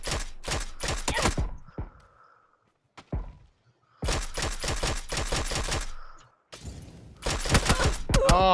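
Gunfire in the battle royale game PUBG during a one-versus-three fight: rapid automatic bursts of closely spaced loud shots, broken by short pauses, then more sustained strings of fire near the end.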